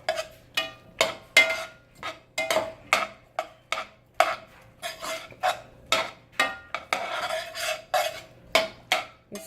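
Onions cook in a hot pan with olive oil and garlic while a utensil scrapes and stirs in steady, evenly spaced strokes, close and clear, with a faint sizzle underneath.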